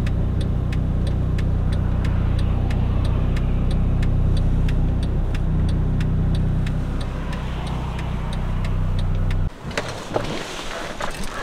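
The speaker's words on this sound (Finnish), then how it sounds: "Nelostiellä on liikennettä." Steady road traffic on Finnish highway 4, a continuous broad rumble of passing vehicles heard from nearby, with a faint regular ticking throughout before the sound abruptly shifts near the end.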